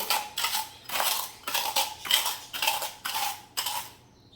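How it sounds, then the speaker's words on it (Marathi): A metal tumbler crushes pieces of edible gum (dink) for sugar-free dry fruit laddoos, giving about eight rhythmic, close, rattling metallic scrapes and crunches in steady succession. "फुलपात्र घेतलेलं आहे मी आणि आता हा चुरून घेते"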